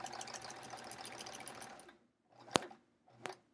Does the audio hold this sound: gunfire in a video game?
no